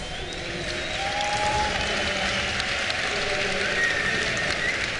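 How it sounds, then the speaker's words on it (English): Esports semifinal crowd at IEM Hanover 2012 cheering and applauding, a dense, steady wash of clapping and shouts filling the hall at even loudness throughout. "can I please have you guys cheer for yourselves for being here today for the semifinal match?"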